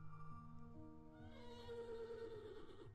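Horses neighing and whinnying in the game Mad Father Remake, several long wavering calls that overlap and rise in pitch, fairly close and clear over a steady low background hum.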